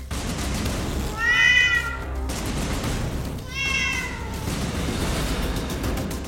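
Pet cats in a ninth-floor flat in Pune, where a woman keeps some 350 of them, give two loud, drawn-out meows a couple of seconds apart over a steady rumbling background.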